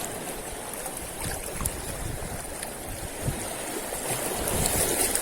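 A strong water current rushes along the shore at a shore-casting fishing spot, a steady, close wash of churning water with no talk.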